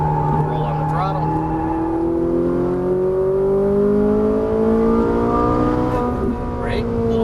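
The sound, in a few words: Ferrari 458 Italia engine accelerating on a track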